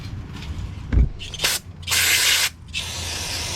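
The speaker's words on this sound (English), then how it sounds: "So we'll shoot that with some brake parts cleaner." Aerosol brake parts cleaner sprayed onto a Ford Expedition front brake rotor, a few short close hissing bursts and then one longer blast, with brief clicks and handling noises in between.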